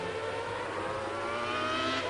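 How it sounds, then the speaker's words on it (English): A modern Formula 1 race car engine at the 1994 Pacific Grand Prix drones at a distance, a faint, steady high-pitched whine holding near-constant revs. "It's very easy with a modern engine. It revs so freely. The revs go up and down so quickly."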